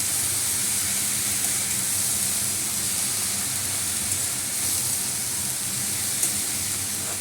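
Dhenki greens with onion frying in a pan, giving a steady, loud broadband hiss and sizzle that runs unbroken throughout, with no talking.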